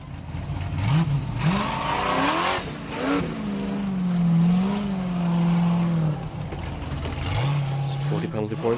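A Formula Offroad car named Thor revs hard on a hill climb at an Icelandic round in Blonduos, engine pitch rising and falling in repeated bursts, loud and close, with crowd noise around it.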